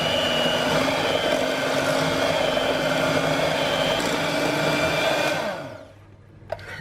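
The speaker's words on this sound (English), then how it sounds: "I'm just going to add in a half a cup of stevia and we'll whisk it until it's smooth" Electric mixer whisking softened cream cheese with stevia for a keto chocolate cheesecake: a loud, continuous motor whir running steadily for several seconds before switching off near the end.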